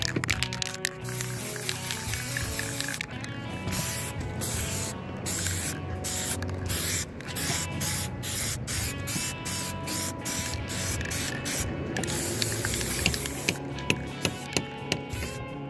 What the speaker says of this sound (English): let's just go ahead and paint. That way we don't have to do this later and get overspray all over the shingles